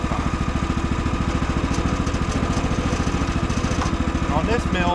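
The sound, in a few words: sawmill engine running after being pull-started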